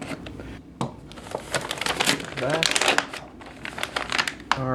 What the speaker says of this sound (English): Carefully cut around the edge here so I don't cut anything inside.